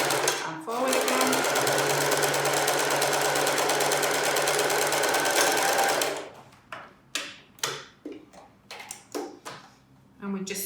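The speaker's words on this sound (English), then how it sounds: "We do a few stitches forward and back and forward again." A sewing machine runs in one long steady burst while stitching a concealed zip into a cushion, then gives way to a series of short stop-start stitches forward and back, close and loud.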